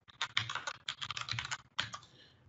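Someone types on a computer keyboard at close range, delivering rapid bursts of clicky keystrokes that pause briefly before another quick flurry.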